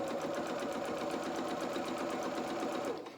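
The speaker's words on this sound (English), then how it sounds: "now I'm going to just sew along here at a nice even edge, about 2 centimetre" A sewing machine runs a zigzag stitch along a felt hem about 2 cm from the edge, making a steady, fast, close mechanical whir with a rapid rhythmic tick that stops abruptly at the very end.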